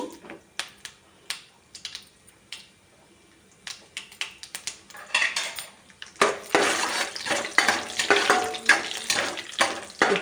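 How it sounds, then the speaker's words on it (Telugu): Mustard seeds, chana dal and cashews frying in hot oil for upma: sparse sharp crackles and pops at first, then a denser, louder stretch of sputtering and sizzling near the pan. "ఆయిల్ వేడెక్కింది ఫస్ట్ ఆవాలు వేసుకున్నాం తర్వాత పచ్చెనపప్పు ఒక స్పూను తర్వాత ఒక పది జీడిపప్పు"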